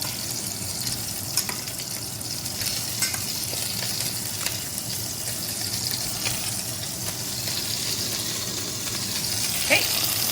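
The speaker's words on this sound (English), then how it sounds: "I'm just going to put all the pork bellies back into the pot" Pork belly pieces for a Vietnamese braised stew sizzle and fry in a pot, giving a continuous hissing crackle with occasional stirring clinks, close and fairly loud, with no talking.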